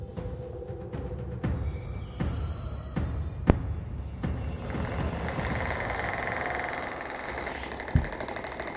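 An old, noisy electric fan that sticks at times runs with a steady rattling mechanical hum, moderately loud and close, with a few sharp clicks and knocks over the drone.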